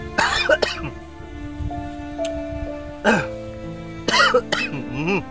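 A person coughs a few times in short bursts, one near the start and another cluster about three seconds in, with throat sounds and faint background noise between them; the coughs are close and moderately loud.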